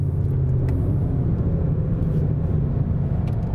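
A Volkswagen Jetta GLI 2.0 runs on the Interlagos racetrack while braking hard from speed, a loud, steady, close engine and road rumble that holds throughout with no voices.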